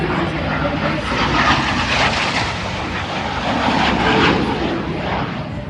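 A big piston engine on a warbird airplane runs steadily at an air show, a broad continuous roar filling the whole clip, with people talking faintly over it.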